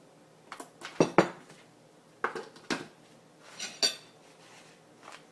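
A spoon stirs chia seeds in a bowl, giving a few light clinks and scrapes against the dish in short, irregular bursts, quiet and close with no talking.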